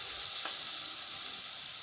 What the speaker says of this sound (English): to the boiling oil or to the cooking oil, let's add our rice inside